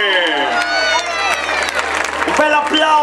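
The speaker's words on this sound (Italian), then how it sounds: "Un bel applauso!" Audience applauding and cheering at a Miss La Riviera 2012 semifinal pageant in Riva Ligure as the winner is crowned, sustained close applause under a loud announcer's voice.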